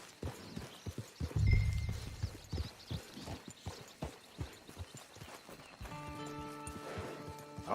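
Horse hooves clip-clop steadily through much of the stretch in Red Dead Redemption 2, moderately close, while game voices talk and music swells in near the end.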